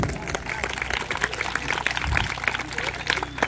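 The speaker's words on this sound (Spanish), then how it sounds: "Un fuerte aplauso para La Plaga" Crowd applause at a Christmas children's event, a dense wash of clapping and cheering from a sizeable audience that runs steadily throughout, with voices mixed into the noise.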